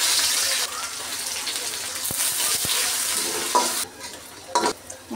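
Onions drop into hot oil with whole cardamom, cinnamon, bay leaf and cumin, setting off a loud, bright sizzle that surges, then settles into crackling frying with a few stirring knocks.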